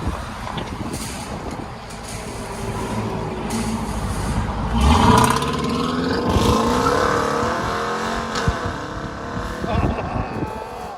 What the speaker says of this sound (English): Dodge Durango RT. Mid muffler delete.